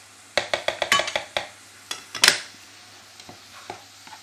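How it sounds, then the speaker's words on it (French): Spoon stirring cream into orzo in a sizzling pan, a quick run of sharp scraping clicks against the metal, then a louder clatter and a few scattered taps over a low background hum. "Et on remue vite fait"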